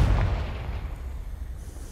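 The Confringo explosive spell from the video game Hogwarts Legacy, a single deep booming blast that fades into a low rumble, moderately loud with no talking.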